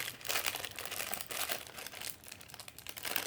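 Plastic packaging crinkles and crackles continuously as a LOL Surprise toy is unboxed, a close, busy rustle with brief louder bursts and no talking.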